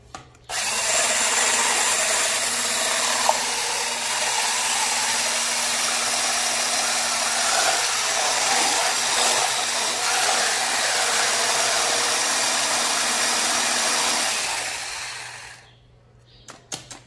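Pudding cake batter of condensed milk and eggs is beaten in a steady, loud motorized whir that runs unbroken for about fifteen seconds before cutting out, with no talking.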